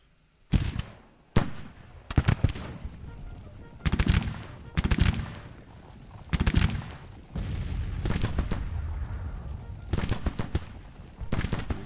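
Artillery and rifle fire in an American Civil War battle video game, set in Wheeling in the summer of 1861: repeated loud booming blasts and crackling volleys, irregularly spaced, over a continuous rumble of distant gunfire.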